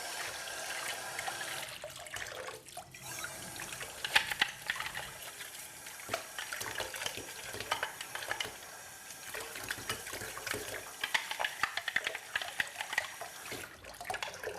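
Running water rinses a pulp-clogged part of an Oscar juicer, the Oscar 900 or Oscar 930 (Huron), under a tap, a steady close splashing hiss with small shifts as the part is moved in the stream.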